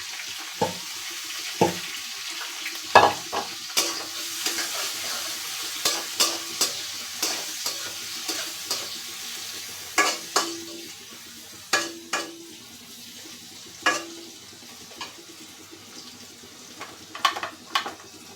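Onion, garlic and green chili fry in a pan with a low steady sizzle, broken by a series of sharp stirring clacks and scrapes against the pan at irregular intervals, close and alone without any talking.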